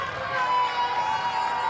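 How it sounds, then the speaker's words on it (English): A vocal crowd at Wanderers Football Park roars in a continuous, dense wash of cheering and chanting. "And you can hear the vocal crowd."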